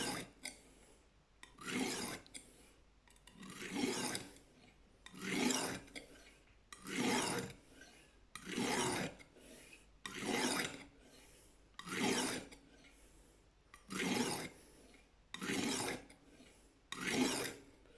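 Repeated strokes of a Lansky sharpening stone drawn along a knife blade, a steady rhythmic rasp about every second with soft gaps between, close and clear with no voices.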